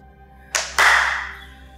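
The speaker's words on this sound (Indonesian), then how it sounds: "Tepuk tangan aja kali ya? Coba." Two sharp hand claps ring out in a quiet, empty old mansion, the second louder with a long echoing decay through the hollow rooms.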